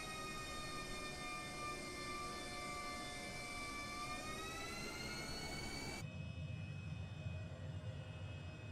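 A HondaJet in the Microsoft Flight Simulator game taxis with a steady jet-engine whine, layered high tonal hums that rise slightly in pitch before cutting abruptly to a lower rumbling drone, continuous and without speech.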